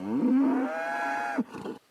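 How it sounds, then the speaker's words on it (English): A cow moo sound effect: one long, close, drawn-out bellow that rises and holds before cutting off, followed by brief faint rustle, no speech. "not pressing the cow sound effect"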